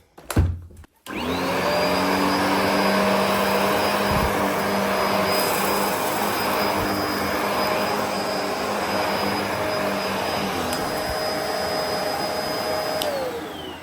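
A Bissell Multi-Clean vacuum cleaner starts with a click and runs steadily for over ten seconds, a loud, close, even whine with a high motor tone, then winds down at the end.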